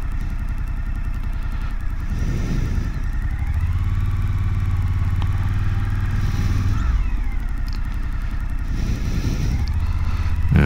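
Suzuki V-Strom DL1050 2021 motorcycle on a ride, a steady engine drone with rising and falling revs over constant wind rush, loud and continuous with no talk.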